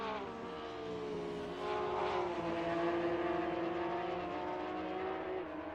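Porsche Cup race cars in a racing video game at the Red Bull Ring roar past, their engine notes rising and sustaining in a dense, layered whine.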